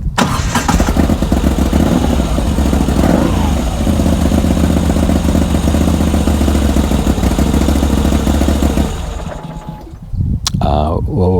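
A Moto Guzzi V85TT motorcycle engine rumbles steadily at idle for several seconds, then cuts out briefly before firing back up, with a voice faintly audible over it.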